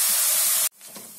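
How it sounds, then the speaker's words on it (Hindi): Onions go into oil heated over medium heat and set off a loud, close hiss that stops abruptly after well under a second. A faint, low crackle follows. "मीडियम हीट पे तेल हमने गरम कर लिया, उसमें डालेंगे प्याज, और प्याज को हल्का गुलाबी होने तक पका लेंगे।"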